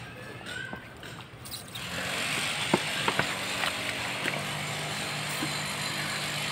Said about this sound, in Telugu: ఆ కన్స్ట్రక్షన్ సౌండ్స్ కొంచెం డిస్టర్బ్ చేస్తున్నాయి